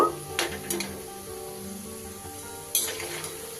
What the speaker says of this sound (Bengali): এইভাবে একটু নাড়িয়ে নাড়িয়ে নাড়িয়ে নাড়িয়ে আমি এগুলোকে ভেজে নেব